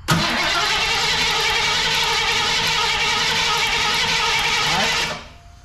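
A car engine, fitted with stock valve covers and roller rockers after a clearance job, starts and runs at a steady, loud idle with a whining tone for about five seconds, then shuts off.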